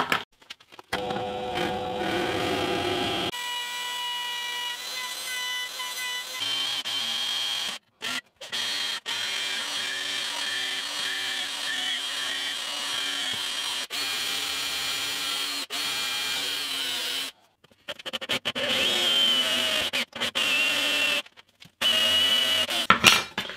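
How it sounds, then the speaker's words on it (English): A router and drill with Forstner bits cutting into a wooden Telecaster guitar body built from scraps, steady whining bursts of machining separated by short silent gaps, close and fairly loud. "there's a good afternoon's routing and drilling"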